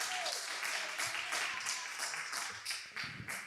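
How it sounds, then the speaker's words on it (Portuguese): A church congregation claps together during a service, loud rhythmic applause with beats falling in steady unison, and a bit of voice mixed underneath. "aplauda o nome de Jesus"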